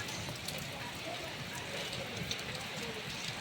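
Rain coming down outside a house in a continuous soft patter, quiet and even throughout with no clear breaks.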